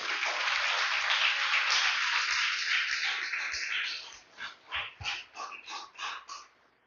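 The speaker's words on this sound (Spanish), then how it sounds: "Denle un fuerte aplauso al Rey, aleluya." Congregation applauding in a church, a dense roar of clapping that thins out into a few scattered, rhythmic claps before fading.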